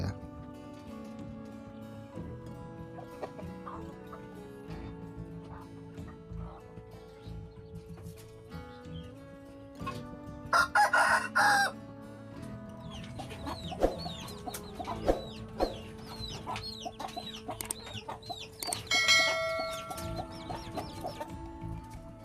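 A Bangkok hen about to lay eggs clucks repeatedly in short, irregular bursts, with someone talking over much of it and occasional louder squawks near the middle and end.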